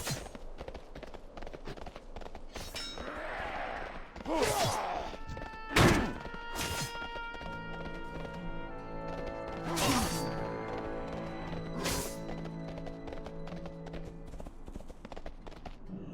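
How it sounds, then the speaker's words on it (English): Horse hooves of a swift Palomino mount in World of Warcraft, a series of clip-clop steps and heavier thuds with sharp clacks, close and clear, with no voices. "Hop on my swift Palomino. Ride like the wind."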